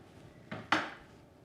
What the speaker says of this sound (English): I'm going to use my Whizzy garlic crusher. That means I don't have to peel and just crush straight into it